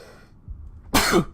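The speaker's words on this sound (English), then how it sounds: "Sneeze." One sharp, loud sneeze-like burst up close in the game Starsector, preceded by a faint quick inhale and little else.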